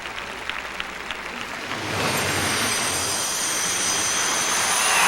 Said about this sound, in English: Listen to the crowd in their hometown of Lyon.